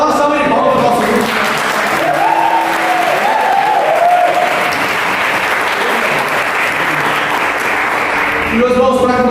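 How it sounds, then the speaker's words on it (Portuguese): Church congregation giving a round of applause for a youth group, loud sustained clapping that swells and holds for several seconds, with voices and brief musical tones mixed in at the start and end. "Então, dá uma salva de palmas para o nosso grupo."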